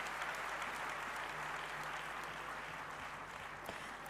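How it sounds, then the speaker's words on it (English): A hall audience at a youth consultation inauguration in Bengaluru gives the performers a sustained round of applause, an even, continuous roar of many hands clapping at moderate distance, with no voices standing out. "Once again, please give them all a big round of applause."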